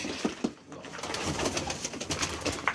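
A pigeon coos softly nearby, a few low throaty calls over a busy background of rustling and faint chatter.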